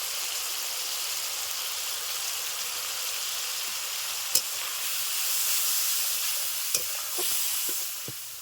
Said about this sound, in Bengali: টমেটো পিউরি দিয়ে দিচ্ছি দিয়ে দিচ্ছি জিরে ধনিয়া শুকনো লঙ্কার গুঁড়ো